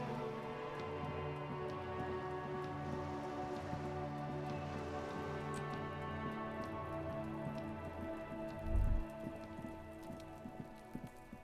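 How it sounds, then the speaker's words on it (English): Running water in a video game, a steady hiss-like stream from someone washing dishes, continuing evenly under a droning tonal background, with a brief low thump near the end. "Hear the sound of running water."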